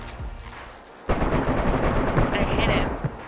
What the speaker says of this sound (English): Where the fuck is this shooting?